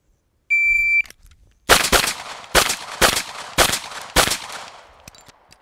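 Five sharp gunshots from target shooting ring out at a steady, deliberate pace, each with a short decay, after a brief electronic shot-timer beep at the start.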